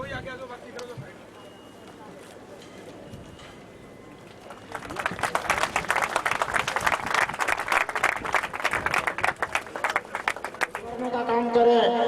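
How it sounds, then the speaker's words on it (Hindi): An audience claps at an outdoor election rally in Jalsu, a dense burst of applause that rises after a few seconds and carries on steadily, with someone speaking before and after it. "आपकी जोरदार तालियां"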